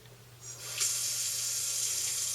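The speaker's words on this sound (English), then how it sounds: "we're going to turn the kitchen sink faucet on" Water runs from an RV kitchen sink faucet, starting with a gentle trickle and quickly building into a steady, hissing stream that continues alone and close by.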